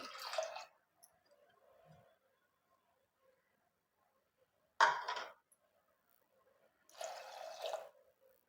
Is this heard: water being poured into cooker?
yes